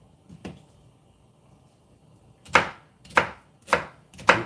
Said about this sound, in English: Remember the number one rule of chopping, okay?